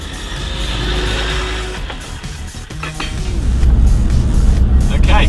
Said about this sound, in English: reading what the car noise is making while I'm driving on the original equipment tyres